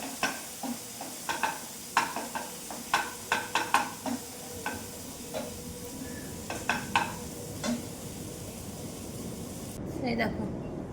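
Fish chira pulao sizzles in a pan while a spoon scrapes and clinks in a run of sharp, regular stirring strokes over steady frying hiss, the strokes thinning out toward the end.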